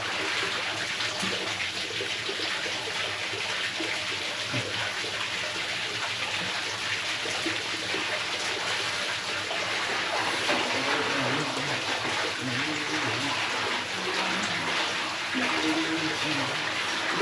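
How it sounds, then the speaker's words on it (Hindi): Hot spring water gushes continuously into a tub, a steady rushing splash with a voice faintly heard at moments, in Ladakh. "और इसमें पानी चलता ही रहता है।"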